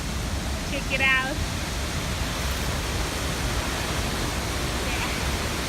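A Blue Nile waterfall roars as a steady, broadband rush of falling water heard from nearby, with a person speaking over it and a brief bird chirp.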